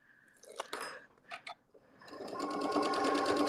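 Several light clacks from fabric and ruler handling lead into a home sewing machine starting up and stitching a quilt panel steadily, its close rhythmic whir building and continuing to the end.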